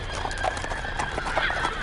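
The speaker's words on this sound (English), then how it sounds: "Sir, I hear horses coming down the road." Horses approach along a road at a wartime roadside ambush, a soft, steady patter of hooves under a faint hiss, low and somewhat distant throughout the short stretch.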